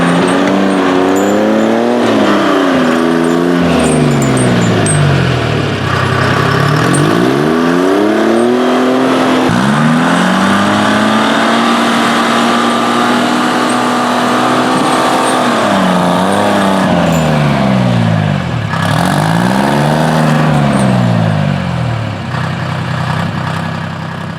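Timberjack skidder diesel engine with a new exhaust, hauling firewood: loud, close engine note that repeatedly revs up and drops back in long sweeping swells, working steadily throughout.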